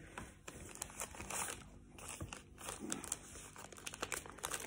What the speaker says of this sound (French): Il colle bien le scotch.